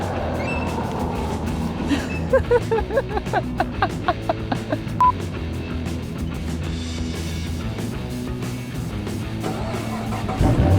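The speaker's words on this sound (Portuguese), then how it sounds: "mas mesmo assim dá para ligar o carro aqui de fora" A Chevrolet Camaro engine started remotely from outside the car on the street, turning over with a series of rhythmic cranking pulses before settling into a steady rumbling idle heard from a short distance.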